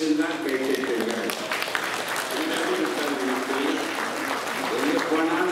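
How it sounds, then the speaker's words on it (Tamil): Audience applause at a Tamil New Year celebration, sustained clapping from a seated crowd with a voice talking over it. "சொற்களின் பேசி பிடித்திருந்தால் கைத்தட்டுங்கள்."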